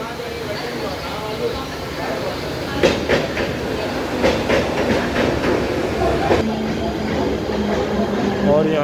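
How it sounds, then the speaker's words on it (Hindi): A Mumbai local train rolls in with loud rumbling and rhythmic clickety-clack of wheels over rail joints, growing noisier as it nears, while someone talks over it. "ये देखो सामने से ट्रेन आ रही है बहुत जोर से शोर से।"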